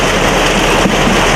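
Heavy pouring rain at an outdoor political rally in Jayankondam makes a loud, dense, steady hiss that fills the whole moment, with no voice audible over it.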